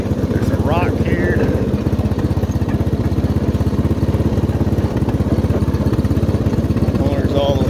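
A small push lawn mower with an 8-inch cutting width runs close by, a loud steady mid-pitched engine drone with a rapid pulsing beat and no pauses.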